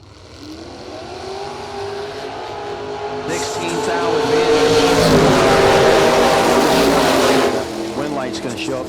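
Dale Wilson's 1984 Daytona and a rival drag car launch and roar down the strip, engines building from a rumble to a loud sustained scream before fading, under an announcer's voice.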